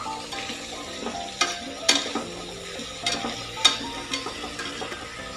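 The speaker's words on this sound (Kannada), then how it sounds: "ಇದನ್ನು ಅಷ್ಟೇ ಜಸ್ಟ್ 1 ನಿಮಿಷ ಒಗ್ಗರಣೆಯಲ್ಲಿ ಫ್ರೈ ಮಾಡ್ಕೊಳ್ಳಿ" Capsicum and knol-khol fry in an oil tempering, a low sizzle broken by repeated sharp scrapes and clacks of a spoon stirring against the pan, with no talking.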